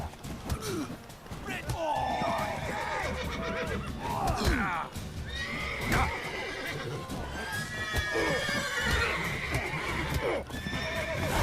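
In the video game The Witcher 3, the horse Roach whinnies several times over the steady clip-clop of hooves. The calls are loud and near, with voices talking intermittently alongside.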